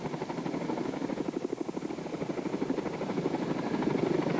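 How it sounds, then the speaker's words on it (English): A Canadian Forces medium transport helicopter drones with a rapid, pulsing rotor chop, steady and fairly close, growing slightly louder toward the end. "the medium transport helicopter has departed its squadron base"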